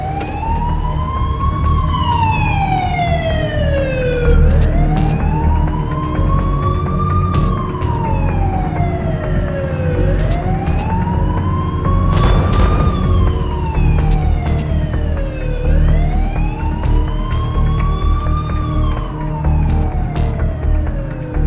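An ambulance siren wails, rising and falling in long, slow sweeps, loud and close, with steady traffic rumble underneath and no talking.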